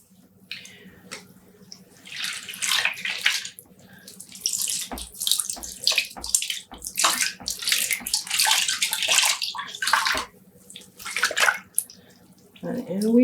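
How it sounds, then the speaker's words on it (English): Wet tweed yarn is pressed out over a pot or soaking tub, giving bursts of splashing and trickling water in uneven waves, with quiet pauses and a few soft knocks between them. "I'm just pressing out some of the water just to avoid splashing it everywhere"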